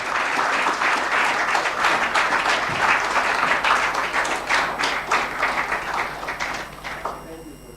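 A conference audience gives a speaker a sustained round of dense clapping that holds steady for several seconds, then thins out and fades.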